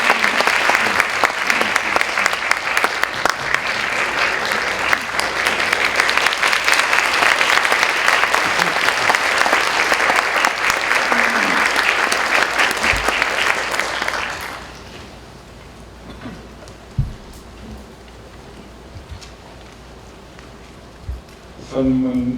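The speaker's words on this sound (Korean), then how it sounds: "우리 박수로 환영해 주시기 바랍니다" A church congregation at a Sunday worship service at Sun Moon University Church applauds to welcome a speaker, a loud sustained clapping that lasts about fourteen seconds, then stops abruptly, leaving a quiet room with a few faint noises.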